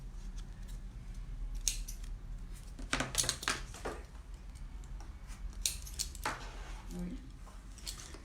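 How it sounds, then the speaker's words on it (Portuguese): Scissors snipping excess damp paper while assembling a cardboard brigadeiro box, a series of light irregular cuts and small rustles at close range, with a quiet voice in the background. "Cortar só o excesso do papel aqui"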